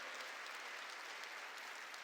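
Congregation clapping in a church service, a continuous even wash of many hands heard faintly and at a distance, without a break.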